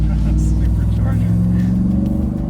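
A Ram TRX pickup's supercharged engine sends out a loud, deep, steady rumble at close range. It holds a low, even drone for a couple of seconds.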